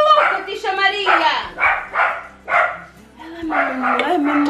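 A female dog barks in a series of loud, close, sharp yaps with short gaps between them, while a human voice is also heard alongside the barking.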